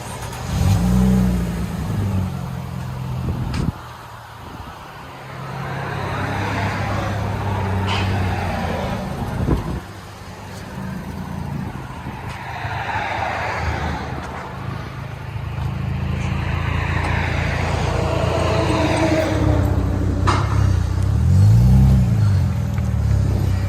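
A 2007 Mercedes C230 Sport V6 with dual exhaust and Black Widow Angry Housewife mufflers revs repeatedly, rising and falling in pitch with a deep, throaty exhaust rumble, close by and fairly loud throughout.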